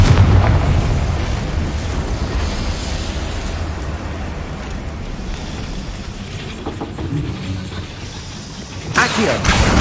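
Confringo fire spell in the video game Hogwarts Legacy, a loud rumbling blast with dense crackling noise that slowly fades, followed by a sharp burst near the end.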